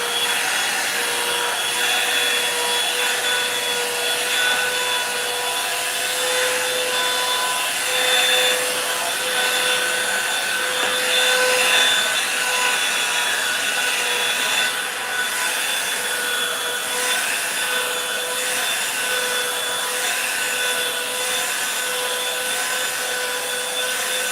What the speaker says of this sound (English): that's all the blow drying I'm finna do